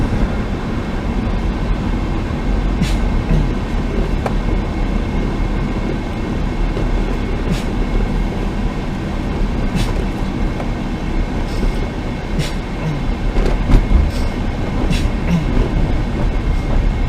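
Train rolling along very active tracks near Speedway Blvd in Tucson, a steady loud rumble with occasional metallic clacks, heard close and continuous with no talk.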